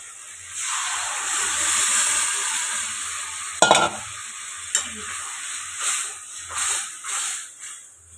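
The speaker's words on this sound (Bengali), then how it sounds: "মাছটা দিয়ে মাথাটা একটুখানি ভেজে নিলাম" A fish head fries in a pan with a bright, steady sizzle that swells and fades, broken by a few sharp spatters and stirring scrapes, close and fairly loud with no talking.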